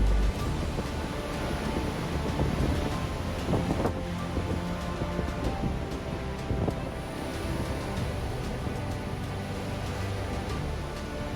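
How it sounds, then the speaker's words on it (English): Strong tropical-storm wind roars continuously along the Atlantic coast near Lisbon, with surf and wind buffeting the microphone in a steady, loud, broadband rush throughout. "There were some tropical storms while we were here, so the winds were quite strong."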